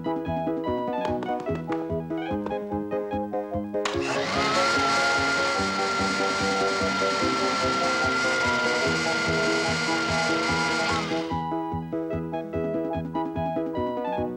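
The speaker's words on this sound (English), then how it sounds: "wash it in the mixer" A cartoon kitchen mixer churning laundry starts up abruptly as a loud steady mechanical whirring over background music, runs for several seconds, then cuts off while the music continues.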